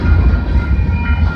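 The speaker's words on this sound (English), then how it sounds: "Yeah, this is 134. This train originates from the Oak Yard in Detroit," Freight train 134 out of Oak Yard in Detroit rumbles past on the Windsor subdivision in London, Ontario, in winter, a loud, steady low roar of rolling cars close by.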